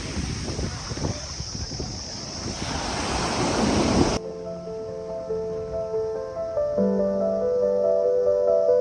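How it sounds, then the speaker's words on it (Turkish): Ocean surf breaking on the shore at Hyams Beach in Jervis Bay, a steady loud wash of waves with wind buffeting the microphone, cutting partway through to a calmer, quieter stretch of water sound. "Sürekli böyle dalgası var burada."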